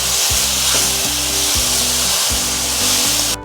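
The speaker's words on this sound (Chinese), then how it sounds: "赶快炒。" Cabbage and shiitake mushrooms are stir-fried with sauce in a wok, with loud, close, continuous sizzling and rhythmic tossing scrapes, and no one speaks.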